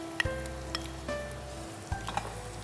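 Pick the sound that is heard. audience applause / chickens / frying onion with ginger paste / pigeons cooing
frying onion with ginger paste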